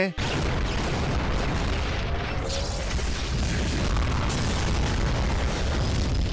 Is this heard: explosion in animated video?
yes